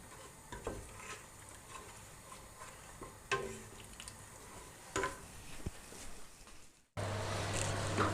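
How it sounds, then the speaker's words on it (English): Blackcurrant jam in a pan is stirred with a spoon in quiet scraping, knocking strokes over a faint bubbling, then a louder steady boiling hiss takes over for the last second. "keep it stirred together and bring it to a rolling boil"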